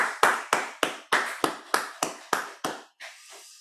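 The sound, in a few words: church congregation applauding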